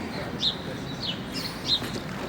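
Small birds chirp faintly in a few brief calls beside a long boat canal in Ireland leading toward Dublin, where birds are being fed, set against steady outdoor background noise.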